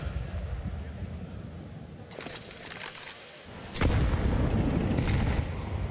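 Grenade explosions in Counter-Strike 2 during a major semifinal match, heard as two heavy, booming bursts a couple of seconds apart within a dense wash of in-game gunfire and effects.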